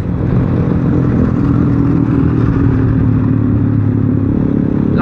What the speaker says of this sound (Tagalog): Lakas din ang muffler niya.